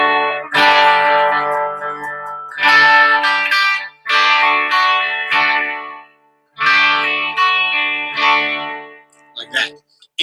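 Distorted electric guitar strums ringing open chords in four sustained bursts, loud and close, with a short picked flourish at the end.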